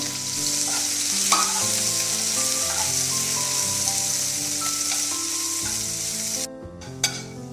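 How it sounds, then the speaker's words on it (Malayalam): Sliced onion sizzles steadily in hot ghee while being fried for a vegetable biryani, a loud, continuous crackling fry with occasional stirring clinks of the pan, no voices. "ഇനി ആ സെയിം നെയ്യിൽ തന്നെ നമുക്ക് കട്ട് ചെയ്ത് വെച്ചിരിക്കുന്ന ഒരു സവാള ഫ്രൈ ചെയ്തെടുക്കാം."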